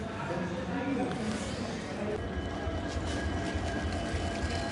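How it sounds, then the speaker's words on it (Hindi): A passenger train pulling into an Indian railway station, a low steady rumble with faint rhythmic wheel clatter in the background while someone talks over it. "तो हमारी ट्रेन आ चुकी है और हम अब चलते हैं अंदर"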